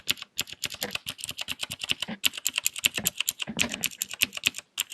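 Razer mechanical keyboard keys typed in quick, uneven bursts close to the microphone, sharp clacky clicks with a brief pause partway through.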